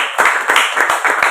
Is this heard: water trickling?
no